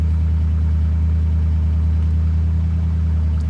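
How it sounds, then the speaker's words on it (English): A 1963 Ford Galaxie 500 engine with a non-functioning choke runs steadily and loudly close by, its deep even rumble holding without pause. "Go ahead and start her up."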